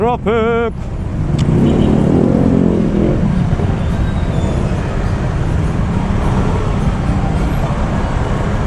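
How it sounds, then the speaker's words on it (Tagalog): Heavy Christmas-season road traffic with cars and many motorcycles, a steady loud rumble of engines close by and continuous, with a brief voice at the very start. "Grabe yung traffic naman."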